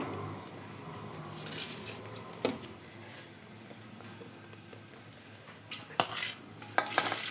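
Onions go into a pan of frying biryani masala, giving a soft steady sizzle under scattered scrapes and clinks of a spoon against the pot, with a few sharper knocks near the end.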